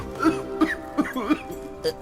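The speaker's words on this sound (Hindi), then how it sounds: "अचानक वो मूर्ति खांसने लगी" A series of about five or six short, hoarse coughs and throat-clearing bursts come from a figure choking in a smoke-filled temple, spaced unevenly over a couple of seconds, performed by a voice as a story sound effect.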